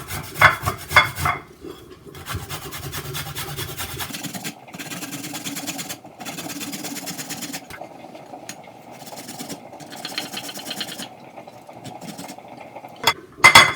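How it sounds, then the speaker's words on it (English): Carrots are rubbed against a hand grater in rapid rasping strokes, in bursts separated by short pauses, close and fairly quiet, with occasional light knocks of the grater. "I'm going to grate my carrots"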